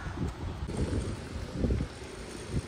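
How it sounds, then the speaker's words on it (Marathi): Strong wind at Vengurla harbour buffets a handheld phone's microphone, a loud rumbling roar that swells and eases in gusts, with no one speaking. "इथे वारा खूपच सुटला आहे, मोबाईलसुद्धा शेक होते माझ्या हातातून"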